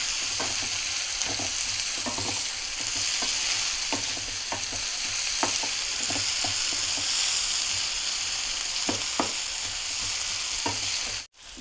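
Thinly sliced onions fry in a pan until light golden, giving a loud, continuous sizzle broken by frequent scraping stirs. It is close, with no voices.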